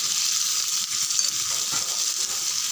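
About 300 grams of onions frying in oil in a pan for chutney, a steady bright sizzle heard up close with faint stirring scrapes and no voices.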